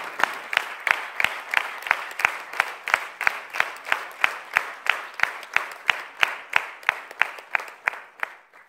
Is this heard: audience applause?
yes